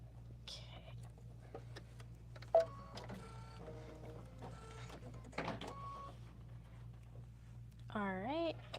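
An embroidery machine stitches a placement line for batting, giving short mechanical whirring runs over a constant low hum, with brief low speech and a rising mechanical whine near the end.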